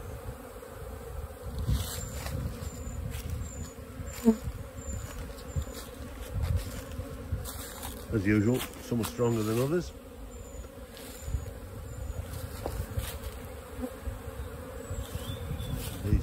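Rescued honey bee colonies buzzing at their hives outdoors: a steady, dense drone of many bees in flight, with individual bees passing close by, while someone speaks briefly over it.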